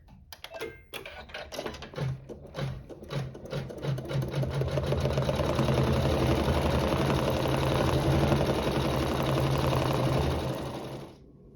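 Embroidery sewing machine stitching a quilt block held in a hoop, a close, rapid mechanical stitching rhythm that starts in short bursts and settles into a continuous loud run before stopping.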